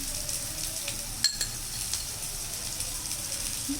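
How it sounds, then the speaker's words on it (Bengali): Banana flower mochar ghonto sautéing in oil at home, a steady close sizzle with occasional stirring scrapes and a brief clink of utensil against pan. "এটা ভালো করে কষিয়ে নেব যতক্ষণ না তেল ছাড়ে"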